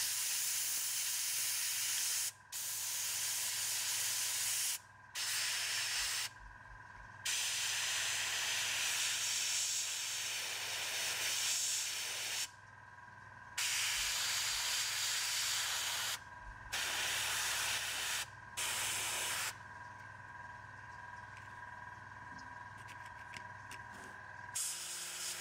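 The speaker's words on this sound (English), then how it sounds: "So basically just spray a little bit of paint and dry it with air," A continuous airbrush hiss sprays paint on miniatures in long bursts with brief pauses between them, close and steady, with no talking.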